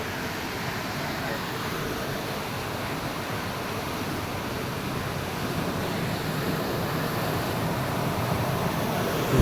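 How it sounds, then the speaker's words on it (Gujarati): Water flows steadily through a canal at Dantiwada dam in Gujarat, a continuous broadband rushing wash that stays even and close for the whole stretch, with slight wind rumble and no talk. "આ રીતે જુઓ આ પાણીનો વહાવ ચાલુ જ છે"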